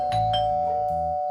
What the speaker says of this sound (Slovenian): nekdo zvoni